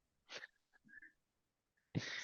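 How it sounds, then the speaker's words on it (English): Faint drawn-out sneeze: a breathy gasp and wheezing buildup with short pauses, ending in a sudden sharp burst. "World's longest sneeze."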